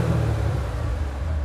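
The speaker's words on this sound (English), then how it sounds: "the car sounds really amazing for what it is" A Corvette C7 Z06, the Carbon 65 edition, sits idling with a deep, steady engine rumble from its stock exhaust, loud and close with no talk over it.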